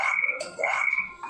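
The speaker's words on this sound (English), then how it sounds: "It's a little green frog." Frog croaks from a children's toy: a series of clear, close, raspy croaks in uneven bursts, loud and alone with no talk.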